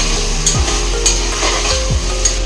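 Salt being stirred into a pot of yakhni pulao, with a spoon scraping and clinking against the pot in a few quick strokes over a steady low sizzle, close and alone.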